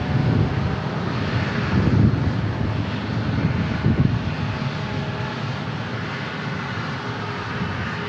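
An American Airlines jet at San Diego International Airport gives a steady, loud engine roar with some wind rumble, continuous throughout with no voices.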